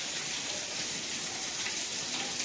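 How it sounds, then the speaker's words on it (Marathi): Steady monsoon rain falls continuously, a dense even hiss of drops on surfaces with no talk, constant in loudness throughout. "कारण सकाळपासून पाऊस चालू आहे."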